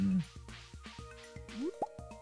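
Water splashing and dripping from watering crops in the farming video game Stardew Valley, a few short liquid drips and pours close up, with a musical game tone in the background.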